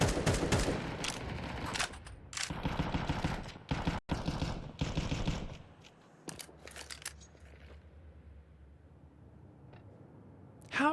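Rapid bursts of Five-SeveN pistol fire crack out in a Counter-Strike match, dense overlapping shots in the first half, then thinning to scattered pops and a low hum.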